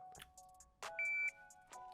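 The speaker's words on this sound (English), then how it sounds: "Buzzer goes off." A short electronic shot timer buzzer sounds once amid sharp clicks and soft mechanical noises, close by, with no talking.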